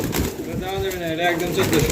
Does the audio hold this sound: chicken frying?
no